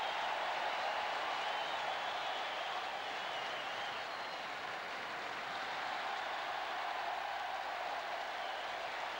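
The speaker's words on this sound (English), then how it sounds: "Tremendous ovation for a great player." Sustained applause and ovation from a home cricket crowd celebrating Greg Chappell's double century, a dense, even roar of clapping that holds steady throughout.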